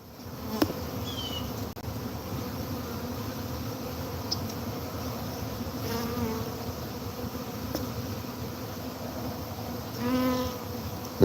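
A steady, close swarm of honeybees buzzing around backyard hives while they feed, a dense continuous hum with occasional louder passes by single bees.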